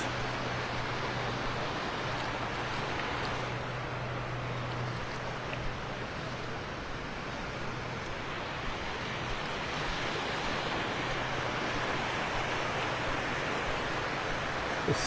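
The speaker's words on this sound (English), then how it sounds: "Listen to those waves." Ocean waves washing ashore at Wiggins Pass in North Naples, Florida, a steady broadband surf wash that rolls on without a break, with a faint low hum running beneath the water.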